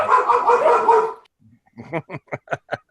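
A dog barks close by, a quick series of five or six sharp, evenly spaced barks after a brief burst of muffled noise.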